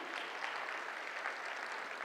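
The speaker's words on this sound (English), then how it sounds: "give them all a big round of applause" Brief, steady applause from an audience at a regional affordable housing forum, an even patter of many hands clapping, fairly soft and without talk over it.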